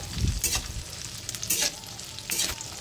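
Whole spices and cashew nuts fry in a pan for aloo dum, giving a soft steady sizzle broken by three brief scraping stirs.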